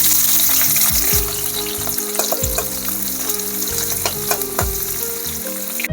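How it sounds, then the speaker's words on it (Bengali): Onion and green chilli frying in a hot wok, a loud, steady sizzle with repeated scraping stirs and clinks of a utensil throughout, no voices. "আমার পেঁয়াজ ভাজা হয়ে গেছে"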